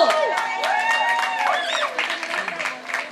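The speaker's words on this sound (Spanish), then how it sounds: "¡Fuerte el aplauso!" An outdoor crowd at a Dominican festival in Cleveland applauds, a scattered clapping texture rising under a loud voice that talks and shouts over the audience.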